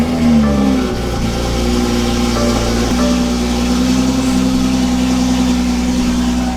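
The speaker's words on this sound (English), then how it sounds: "I guess it's finally time to give y'all one of them cold starts that everybody likes so much." A BMW M340i G20 with a straight-pipe exhaust cold-starts with a loud flare of revs, then settles into a steady, rumbling high idle close to the microphone.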